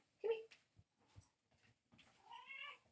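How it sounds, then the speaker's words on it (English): A cat lets out short meows at close range, a brief cry at the start and a longer drawn-out meow near the end, with soft noises in between. "Here's the kitty."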